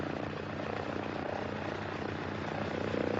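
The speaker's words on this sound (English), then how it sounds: "Plane in distress." A plane in distress has its aircraft engine droning loud and steady, a dense, unbroken roar that holds for the whole stretch with no voices over it.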